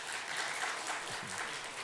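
A church youth group claps, a steady burst of applause with a faint voice underneath.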